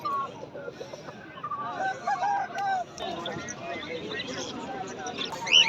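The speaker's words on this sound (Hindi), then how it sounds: "ये मुर्गों की साइड है।" Chickens and roosters clucking amid the busy crowd of an outdoor Sunday bird market, with someone talking over the steady din of birds and people.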